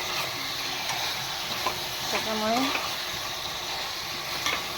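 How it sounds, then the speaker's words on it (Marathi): Mutton sautéed and stirred in a pan, a close continuous sizzle with scraping stirs, while someone talks briefly over the cooking. "तर मस्तपैकी आपण आता हे परतवून घेतो आहे"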